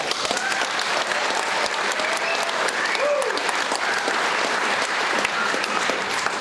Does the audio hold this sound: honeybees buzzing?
no